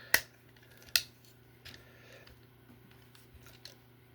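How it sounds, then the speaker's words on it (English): Plastic leg panels on a Transformers Studio Series 86 Optimus Prime toy being folded inward, giving two sharp close clicks followed by a few softer ticks over a low steady hum. "So you take the panels, the front of his legs, fold them inwards."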